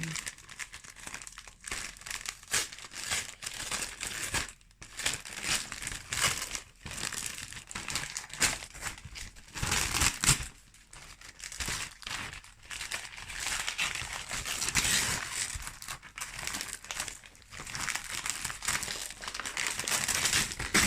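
Continuous crinkling and crackling of holographic paper and heavy tape being pulled and torn from a package, close up, in irregular bursts with brief pauses.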